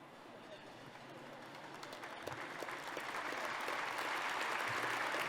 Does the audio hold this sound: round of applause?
yes